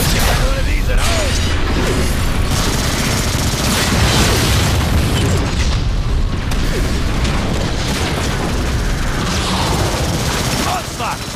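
Explosions blow up shells in the video game Transformers: Fall of Cybertron, dense continuous booms and gunfire bursts filling the whole stretch at loud, chaotic volume.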